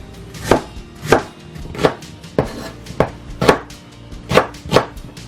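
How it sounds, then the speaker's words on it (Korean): Seven or eight sharp knife chops land on a cutting board at a steady, slightly uneven pace as seasoning ingredients are cut for ponytail radish kimchi, close and clear, with no talk over them. "양념에 들어갈 재료들은 잘 갈리도록 조금 적당한 크기로 썰어줄게요"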